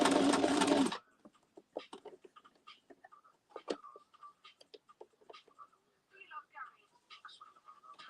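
A sewing machine stitches a vinyl inhaler cover, running in a loud steady whir for about a second, then stopping and giving way to faint, scattered ticks and clicks.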